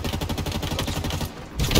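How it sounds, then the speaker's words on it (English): Rapid automatic gunfire in the Halo video game, a dense, continuous burst of shots that briefly pauses and resumes, loud and close, with no voices. "Yes, you hear me shooting."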